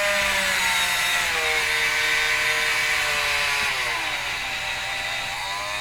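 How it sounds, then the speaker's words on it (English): A power grinder works on a metal part of a Telefunken TW501 record changer, a loud continuous high whine that sags slightly in pitch under load and then recovers, with no voices. "let's just grind this a little more"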